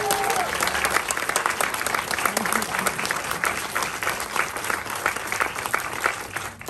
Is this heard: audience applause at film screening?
yes